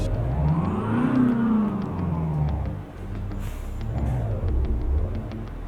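A Renault 9 car engine in Euro Truck Simulator 2 revs up with a rising whine, dips briefly, then accelerates again, a smooth synthetic game-like roar throughout.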